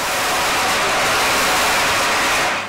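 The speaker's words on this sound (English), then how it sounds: "Those are the elements that is responsible for peeling this very air cassava." Cassava peeling drum machine running with small peeling elements tumbling inside the drum, a loud, steady, broadband rushing roar that holds constant throughout.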